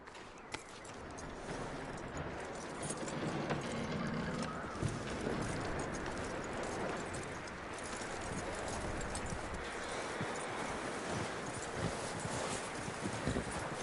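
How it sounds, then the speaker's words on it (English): Horse hooves clip-clopping in the video game Red Dead Redemption 2, a steady rhythmic trot moving over ground beneath a constant wash of wind and outdoor ambience. "That looks like a decent horse."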